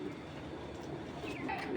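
Racing pigeons coo softly at dusk, a low steady murmur of calls close by with faint background hum and no voices.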